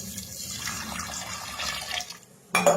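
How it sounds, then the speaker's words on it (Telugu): Water splashes and gurgles steadily into a pot for a couple of seconds, close by, ending with a brighter clatter. "ఇప్పుడు చూడండి, నీళ్ళు పోయాలి."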